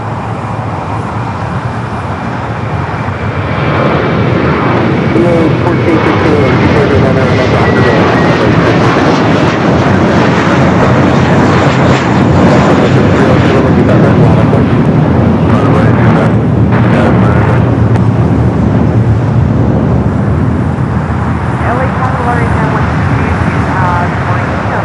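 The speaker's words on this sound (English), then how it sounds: "Next takeoff is that flight to Houston" An airliner takes off at LAX, a broad, loud engine roar that swells and holds steady for most of the stretch, with traffic noise and some talking mixed in.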